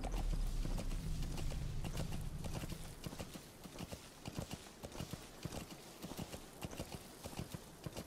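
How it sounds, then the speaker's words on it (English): A horse gallops in Metal Gear Solid 5: The Phantom Pain, with rapid, steady clip-clop hoofbeats over soft ground, mid-distance and fairly quiet beneath a broad wash of ambient game noise. "they don't hear a horse galloping."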